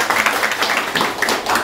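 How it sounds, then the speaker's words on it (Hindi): Students in a mobile phone software and flashing class give a short round of applause: brisk, close clapping from a small group that rises and falls over a moment. "इनके लिए जोरदार तालियां।"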